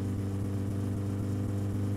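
Car engine in My Summer Car fitted with race exhaust, race headers and race carburetors, a steady loud low droning hum held at speed without pause.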